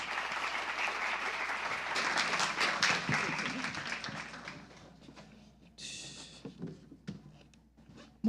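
An audience at a Spanish-language lecture series claps to welcome a visiting professor, a burst of applause that swells, then thins into scattered claps and fades into room quiet.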